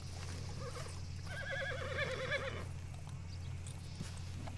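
A horse whinnies in a long, wavering neigh over a steady low hum, with faint hoof clops and rustling around it, in Red Dead Redemption 2.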